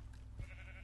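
A single short sheep bleat from the Minecraft video game sounds faintly and briefly under low background game ambience.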